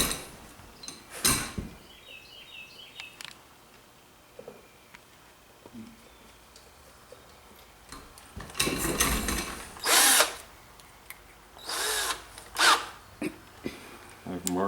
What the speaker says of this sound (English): Don't ask me what size of drill this is because I couldn't tell you